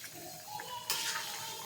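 Water poured into a pan of drumstick curry cooking on a gas stove: a faint, steady hiss of liquid, then a brief louder splash as the pour lands.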